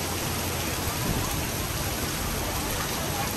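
Heavy rain pouring in Nha Trang at night during a tropical depression, a dense unbroken roar of downpour, loud and close throughout with no talk.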